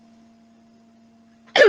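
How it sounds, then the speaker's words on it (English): A single short, loud cough bursts out at the very end, after a long stretch of quiet room hum. "sorry for the coughing"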